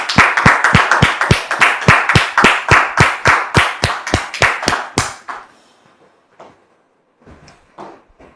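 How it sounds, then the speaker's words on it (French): An audience claps in a steady, evenly paced rhythm to welcome a guest, about seventeen crisp, loud claps in unison over five seconds, then it stops and a few faint knocks and murmurs follow. "sous vos applaudissements, s'il vous plaît"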